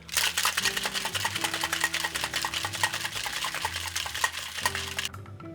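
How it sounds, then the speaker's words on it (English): Cocktail shaker rattling hard with ice, sherry, powdered sugar and a whole egg inside, a fast steady rhythmic clatter running for about five seconds before stopping, close and loud with no talking. "we definitely want to shake this one"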